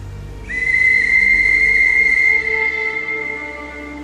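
A single long, piercing train whistle blast at a heritage rail centre in Peterborough starts abruptly and holds steady for a couple of seconds before tapering off over a low rumble.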